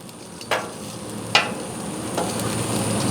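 Texas toast sizzles on a Blackstone griddle, a steady soft crackling hiss with a few sharper pops and scrapes standing out, close up and fairly quiet, with no one talking.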